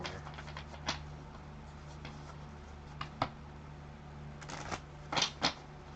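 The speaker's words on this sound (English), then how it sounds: "So now I'm going to give this another shuffle." A deck of tarot cards is shuffled up close: soft riffling and papery rustle with a few sharp snaps and slaps, and no voices.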